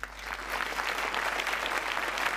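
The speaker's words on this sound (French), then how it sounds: "vous pouvez encore applaudir le peintre" Studio audience of a 1983 French television broadcast applauding a painter, a steady dense wash of clapping holding at an even level throughout with no talk over it.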